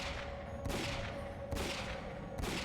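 Gunfire in the Ghosthunter video game, faint and distant: three evenly spaced shots over a steady noisy background.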